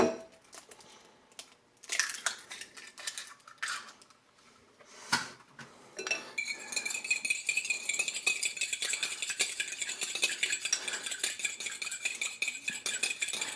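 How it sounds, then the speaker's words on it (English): Eggs whisked in a bowl for empanada filling: after a few scattered clinks and taps, a steady, fast rattling of metal against the bowl runs continuously, close and moderately loud, with no talk. "Give it a nice whisk."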